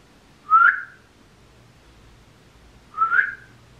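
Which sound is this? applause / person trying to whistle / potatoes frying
person trying to whistle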